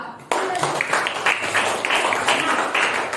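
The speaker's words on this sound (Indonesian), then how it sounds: "Kita beri tepuk tangan untuk kelompok 3 dan kelompok 4" Students in a classroom applaud presentation groups, a sudden burst of dense, close clapping that starts abruptly and continues steadily at a moderate level for about three seconds.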